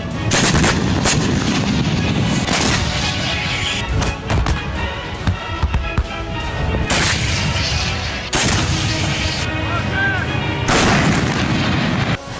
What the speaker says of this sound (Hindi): बेहिसाब बारूद उगलती तोपें